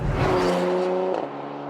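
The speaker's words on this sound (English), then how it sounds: "you can hit the Sport button, and right away it kicks down a gear." A Porsche Macan GTS engine in Sport mode revs up after a kickdown, giving a steady loud drone that climbs and then settles into a lower hum as the gear holds.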